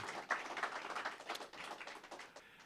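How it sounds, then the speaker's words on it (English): Quiet applause from an audience at a small-business award event, a soft, uneven ripple of clapping hands that thins out toward the end, with no talking. "and that's where you should applause"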